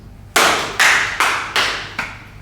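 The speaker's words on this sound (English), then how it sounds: "Now clap your hands." Five sharp hand claps in an even rhythm, close and loud, each with a brief decay, from a group exercise at a festival.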